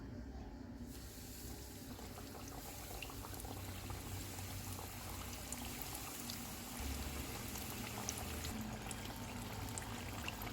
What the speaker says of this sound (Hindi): अब हम इसमें चिकन के पीसेस डाल देते हैं।